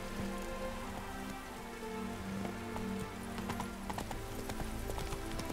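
Horse hooves clip-clop steadily on a path as Roach is ridden in The Witcher 3, with pattering rain and a constant droning game background beneath the hoofbeats.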